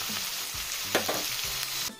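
Potatoes, peanuts and green chillies sizzle and crackle steadily in a hot pan, with occasional scraping stirs of a spoon; no voices.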